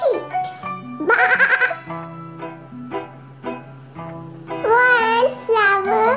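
Animated sheep bleat in a children's counting song, several wavering cries rising between sung counting and a steady musical backing.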